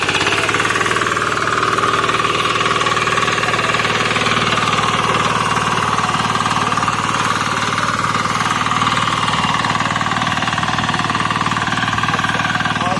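A mini tiller with a 7.5HP petrol engine runs loud and close, a steady rapid hammering drone that holds unbroken throughout with no talk.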